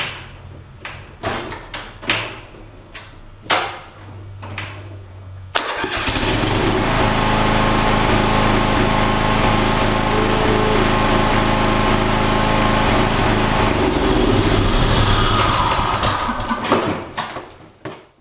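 A John Deere lawn tractor being started: a few knocks and clicks, then the engine cranks and catches, roaring loud and steady at close range for about ten seconds before winding down near the end.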